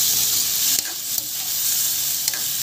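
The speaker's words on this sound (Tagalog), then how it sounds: "Halu-haluin lang natin hanggang sa maluto." Sweet and sour pork with pineapple stirred in a frying pan, a loud constant sizzle with a few sharp scrapes of the utensil against the pan, no voices.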